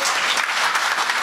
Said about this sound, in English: On a round of applause again for Mr.